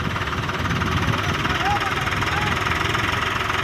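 A 12-wheel truck engine labours while pulling a stuck tractor loaded with gravel, a loud rough idling rumble with knocking vibration, close by, under voices talking.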